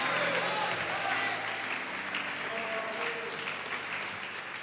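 A church congregation applauds during a sermon, a full, continuous round of clapping from many hands that fades gradually, with a voice faintly audible beneath it.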